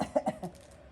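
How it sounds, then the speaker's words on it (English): A patient coughing during tracheostomy suctioning, a short burst of three or four quick, close coughs that fade within a second. "advance it until he coughs"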